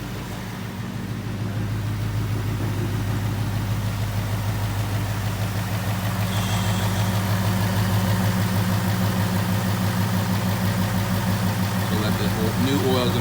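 A modified 2018 Ford Mustang GT V8 idles steadily in a service bay during an oil change, a continuous low rumble holding throughout with a faint higher whine, while people talk nearby.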